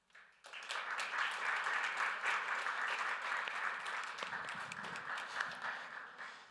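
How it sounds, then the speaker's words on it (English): Sustained audience applause fills a room at a game jam bootcamp after an Unreal talk, starting abruptly and holding steady as a dense wash of many hands clapping before tapering slightly at the end. "And another applause for Ramil for the Unreal talk"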